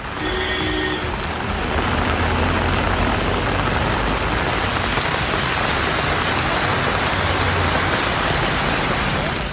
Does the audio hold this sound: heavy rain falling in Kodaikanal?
yes